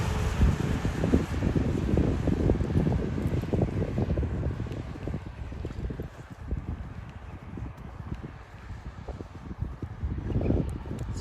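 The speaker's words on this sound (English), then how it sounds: "Let me know if the wind gets too annoying, because I do have the DJI mic" Heavy wind buffets a microphone during a foggy outdoor walk in Hakone, producing loud, uneven low rumbling gusts that swell and ease throughout without any talking.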